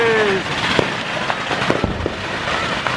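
New Year fireworks and firecrackers go off around Angeles City, Philippines, with loud sharp bangs and crackles over a dense noisy crowd, a whistling rocket rising at the start and people calling out.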